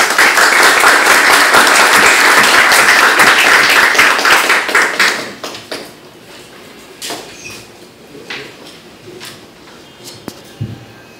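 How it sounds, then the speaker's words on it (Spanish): Audience applause at an agro-ecology conference hall, loud and dense for about five seconds, then tapering off into scattered claps and quiet room noise. "Recibamos con un aplauso al ingeniero Anderson Huayna Castro"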